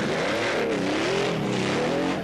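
Official factory Porsche rally cars on the Dakar rally, engines roaring continuously and loudly close by, with harmonic engine tones rising and falling as they accelerate, no talk.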